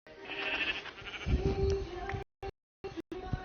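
A brown sheep in the Minecraft video game bleats with a steady, wavering cry that holds for about two seconds, then cuts off in short choppy bursts, with no talking.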